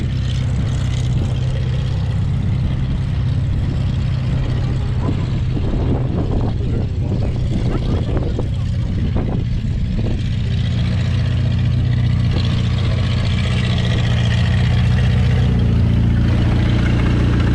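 An old WWII Willys jeep engine drones in second gear after years of sitting, a loud, low, steady rumble with rhythmic mechanical knocking in the middle and faint voices underneath.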